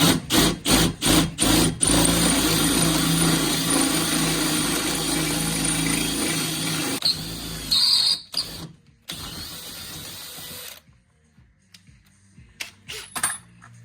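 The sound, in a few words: power drill drilling out a bolt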